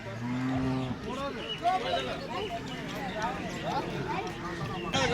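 Cattle at a Tamil Nadu ox and buffalo market low in short moos near the start, set against a busy crowd of overlapping voices and general market bustle that continues throughout.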